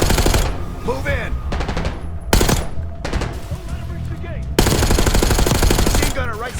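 Machine gun fire in the Call of Duty Black Ops 6 campaign: loud sustained bursts of rapid shots, broken by short pauses and then resuming, with sharp cracks standing out.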